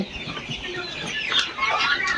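A flock of young broiler chickens on a local farm shed clucks and chatters nearby, with a continuous busy murmur and a few brighter squawks toward the end.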